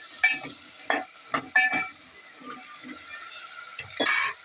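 Tomatoes and vegetables sizzle in a pan while a utensil stirs them, giving several distinct scraping bursts over a soft continuous frying hiss, close and fairly quiet.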